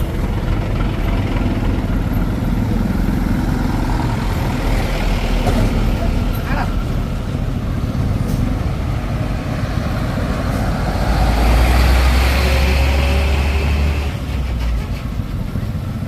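Heavy trucks labour to tow a stranded tanker truck up a steep hill at Tanjakan Bukit Kodok, their engines giving a steady, loud low rumble and drone throughout, with voices talking nearby.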